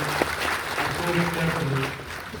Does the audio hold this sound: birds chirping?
no